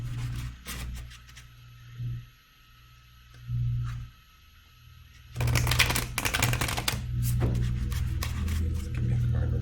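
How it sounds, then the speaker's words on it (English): Tarot cards riffle and slap together in quick bursts, with crisp shuffling that grows denser and continuous toward the end. "shuffle the cards for the energy for today"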